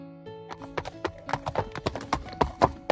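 Horse hooves clip-clopping in a quick uneven trot, a dense run of hollow knocks over a soft musical backing, growing louder over three seconds with no talking.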